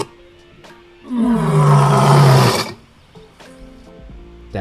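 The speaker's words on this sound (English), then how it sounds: "we want to get some tiger audio" An AI-generated tiger roar from Meta's ImageBind, one loud sustained growling roar of about a second and a half rising out of a quiet background with faint clicks before and after.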